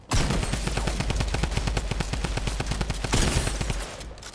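Rapid automatic gunfire in a first-person shooter video game, a dense close burst of shots that runs continuously for several seconds and then cuts off.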